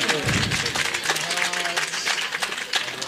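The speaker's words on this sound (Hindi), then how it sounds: "जोर से तालियां, तालियों में कंजूसी क्यों?" A crowd claps with scattered, uneven applause mixed with voices and some thumps, fairly close and lively.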